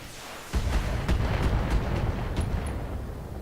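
Mech weapons fire in the BattleTech video game, a sudden heavy blast that opens into a sustained, loud rumbling barrage with repeated sharp impacts, heard alone with no talk.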